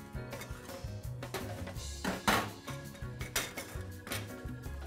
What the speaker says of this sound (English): let's cut it into little pieces so that we can fill our shells with the dough